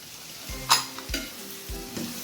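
Tomato and green capsicum for Mexican rice sizzle in a pan while being stirred, with a steady frying hiss and a few distinct scraping strokes of the spoon, close up and with no talk.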